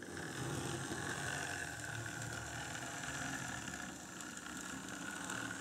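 An Arnold N gauge model train runs back across a model level crossing with a steady, faint mechanical whir and rattle, continuous and unbroken, with no voices.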